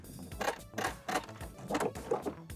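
A sewing machine backstitching a seam on a pocket, a short run of rapid mechanical stitching pulses in two or three quick bursts, close and fairly quiet.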